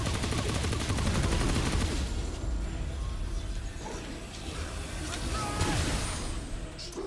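Gunfire in the video game Remnant comes as dense, rapid, loud shots that blur into continuous bursts, followed by a rougher mix of impacts and clatter as the firing thins out.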